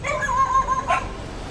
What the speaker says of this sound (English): Oh, some dogs are barking at me.